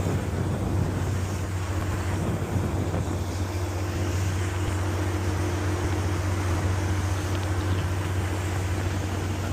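Strong wind buffets the top deck of a ferry boat off Mexico, a constant loud roar of gusts and microphone rumble over the low drone of the vessel.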